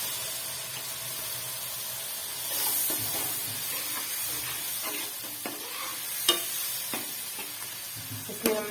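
Ginger garlic paste hits hot oil in a frying pan, giving a steady sizzle with occasional stirring scrapes and a few sharp clinks of the spoon against the pan.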